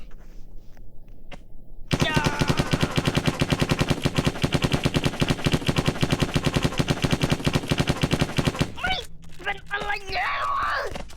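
Rapid sustained automatic gunfire, a dense machine-gun burst of evenly spaced loud shots running for about seven seconds before cutting off, with voices and other sounds briefly following.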